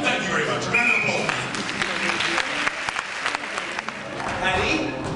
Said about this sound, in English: Ladies and gentlemen, a round of applause, please, for couple number 64, Mr. Wong.